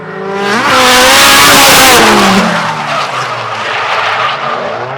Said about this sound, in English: We're going to be doing some drifting.